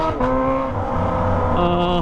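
Kawasaki ZX25R motorcycle with a Toce exhaust revved to the limit, a loud, close, high-pitched screaming engine note that dips and climbs again across about two seconds, no talk.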